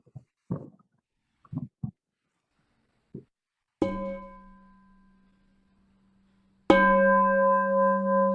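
A bell struck twice during a Buddhist faith talk: a few soft taps precede the first ringing strike, which decays slowly, then a second, louder strike rings on with a wavering sustained tone.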